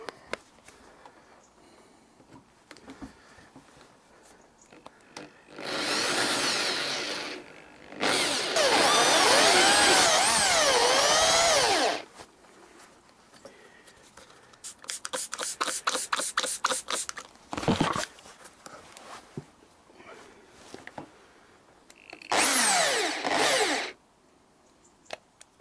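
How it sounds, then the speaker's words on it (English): A power drill bores out a seized bolt on a Yamaha XJ900S motorcycle in several bursts of loud, whining drilling, a few seconds each, with quiet gaps between them. "Please don't say I've got to drill this one out as well."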